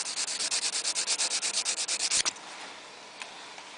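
Hand sanding of a metal ring to flatten its high spots: about twenty quick, even rasping strokes in a steady rhythm, close and clear, ending in a sharp scrape and then near silence.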